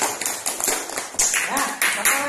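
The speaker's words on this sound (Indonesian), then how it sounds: "Tepuk tangan untuk Dinda." Students in a classroom clap for a classmate after her story, uneven bursts of hand claps mixed with voices talking over them.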